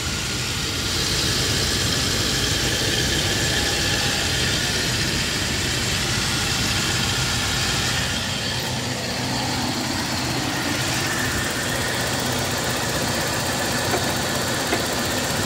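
A 2004 Toyota Kijang LGX with a 1.8-litre petrol engine and manual gearbox idles. A steady, even mechanical hum with a light rattling texture runs throughout at close range, with no talking.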